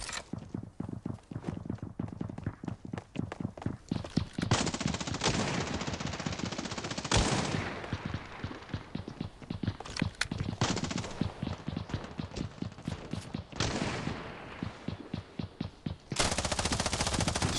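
Rapid gunfire in the mobile battle royale game Scarfall 2.0, dense bursts of shots that run almost continuously and loud, with short gaps between volleys and no talk over it.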